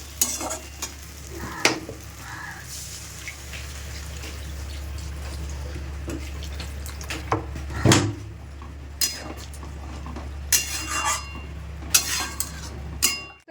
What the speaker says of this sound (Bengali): আর এখানে হচ্ছে মশলা কষানো হচ্ছে